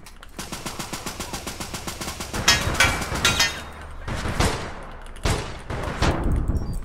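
Rapid automatic gunfire from the video game APB, a fast machine-gun rattle followed by several heavier bursts of shots, loud and close with no talk.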